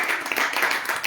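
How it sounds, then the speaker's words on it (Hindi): A burst of audience applause at a church sermon, dense close clapping from a congregation, sustained and fairly loud through the whole moment. "तालियां दो।"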